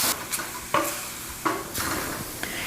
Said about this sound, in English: I'm going to need to give it a little saute first.